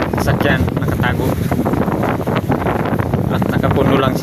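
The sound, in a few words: strong wind with rain on Mangsi Island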